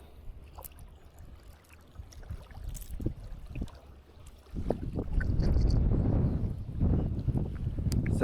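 Strong wind gusts sweep across a lake during a bass and pike fishing outing, rumbling and buffeting close to the microphone. The gusts are faint at first, then swell into a louder, sustained roar.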